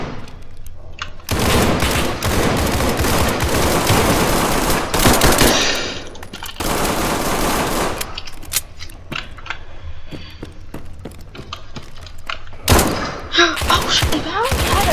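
Loud bursts of automatic gunfire from the video game SCP5K come in long sustained volleys and then sparser shots, close and harsh, with a player's voice speaking at times over the action.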